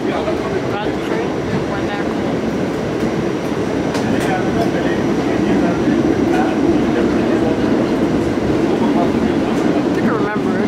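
A Staten Island Railway Tottenville Express train on the move, a loud, steady rumble of wheels and car noise heard from on board, continuous throughout with faint rattles and squeals.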